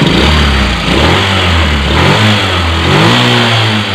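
A Bajaj CT 100 motorcycle engine revved hard and close, a loud continuous rising and falling roar with no pauses, the bike leaking oil from a faulty repair.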